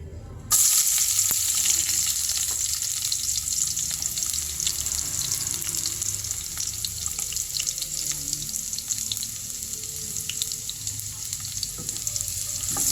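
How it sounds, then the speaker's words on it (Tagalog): Vegetables such as sweet potato and cabbage sautéed in a wok, a steady loud sizzle with a continuous hiss throughout and faint stirring scrapes, close and without talk. "Gisa-gisa na po tayo, tapos ang aking mahiwagang kawali."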